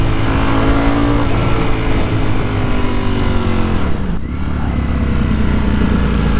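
A Ducati Panigale V4S motorcycle engine revs loudly up close, a sustained high-pitched whine that holds, dips sharply near the end, then climbs again.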